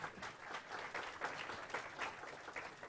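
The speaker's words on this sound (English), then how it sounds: "The applause was for him" Steady applause from a seminar audience, a dense wash of many hands clapping at an even level for about three seconds with no voices over it.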